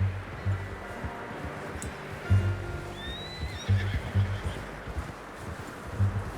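A horse in the video game Red Dead Redemption 2 gives a brief neigh over repeated soft hoof clip-clops as it moves along.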